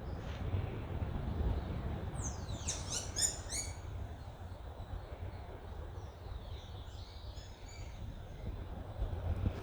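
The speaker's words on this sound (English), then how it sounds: "Listen to the birds again." Birds call in natural coastal woodland by Foul Bay Beach, Barbados, two short clusters of bright calls, the first nearer and clearer, the second fainter, over a steady low breeze rumble.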